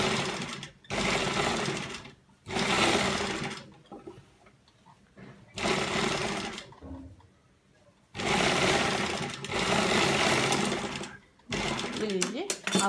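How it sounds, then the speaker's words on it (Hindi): A sewing machine running long basting stitches around an embroidered garment neck, rattling in several loud bursts separated by pauses, with someone talking between runs. "इसको ऐसे रख के एक कच्ची सिलाई लगानी है मोटे बखिए से"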